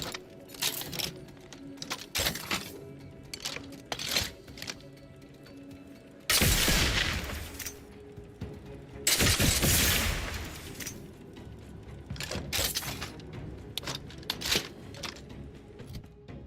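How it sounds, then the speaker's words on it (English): A rocket pistol fires up to four rockets in quick succession in the video game The Outer Worlds 2: two loud, sustained roaring bursts stand out over a bed of scattered clicks and smaller impacts. "What is this, a rocket pistol on roids?"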